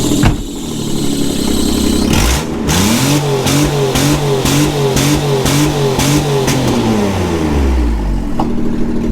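A manual four-wheel-drive Nissan Xterra with 184,000 miles cranks and fires, then its engine revs up and down in several rising and falling sweeps before settling. The sound is loud and close, with no talk.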